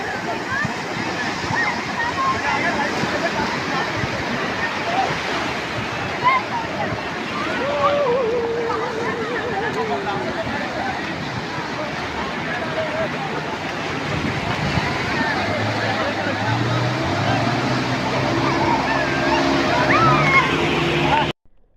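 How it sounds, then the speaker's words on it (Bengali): Sea waves on a Goa beach produce a continuous wash of surf and rolling water, with a voice talking over the roar for much of the stretch. "আপনারা শুনলেনই এই ঢেউর আওয়াজ।"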